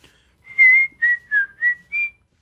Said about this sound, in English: Whistle while you work.